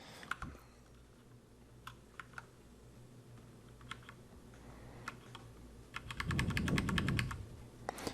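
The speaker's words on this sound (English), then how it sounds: "So now we're just going to use the down arrow keys." Computer keyboard keys, including arrow and tab keys, pressed during a Hyper-V server install: scattered single clicks, then a rapid burst of taps, close and crisp in a quiet room.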